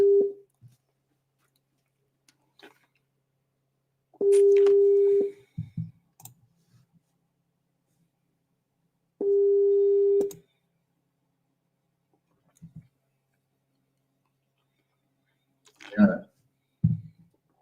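A phone line rings out while calling back a caller during a live Q&A broadcast: three steady tones, each about a second long and spaced several seconds apart, with small clicks between them and a brief voice at the end.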